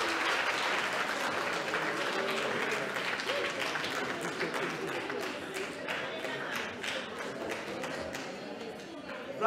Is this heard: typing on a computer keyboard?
no